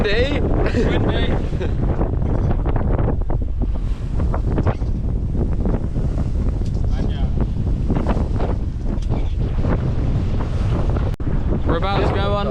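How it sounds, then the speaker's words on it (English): Strong wind buffets the microphone aboard a sailing boat, with rushing air and water wash over a continuous roar, and people talking at the start and end. "It's windy."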